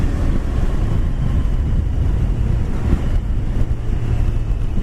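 A Yamaha Fazer motorcycle riding up a slippery road, its steady engine drone mixed with heavy buffeting wind roar on the microphone, continuous throughout with no talk.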